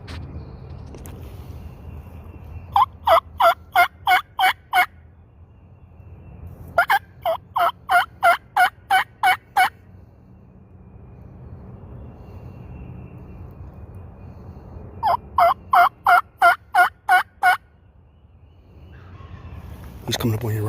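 A wild spring gobbler sounds off in three loud bursts of rapid gobbling, answering a hunter's turkey calls from the woods, with quiet gaps and low rumbling between the bursts.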